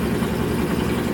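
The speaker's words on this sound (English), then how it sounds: "here the motor is going on again" Washing machine motor running steadily during a Casuals wash cycle, a constant low hum with no talk over it.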